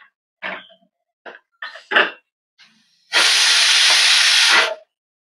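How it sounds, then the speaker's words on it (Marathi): A pressure cooker, cooking dal with drumsticks, lets out one loud, steady whistle of escaping steam lasting about a second and a half, after a few short breathy bursts and brief clatter. "एक शिट्टी झालेली."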